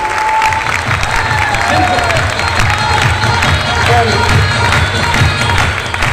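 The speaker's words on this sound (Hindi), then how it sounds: "एक बार इनके लिए जोरदार ताली बजाओ" Loud, sustained audience applause at a motivational seminar, vigorous clapping mixed with cheers and crowd shouting, filling the hall at full intensity without letup.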